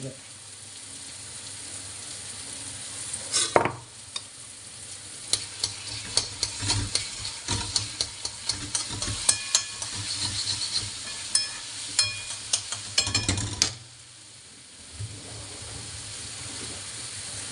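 Ginger garlic paste sizzles and spatters in a hot pan for green chili prawn thecha, with a steady frying hiss, scattered crackles and a few loud scraping stirs, fading briefly near the end.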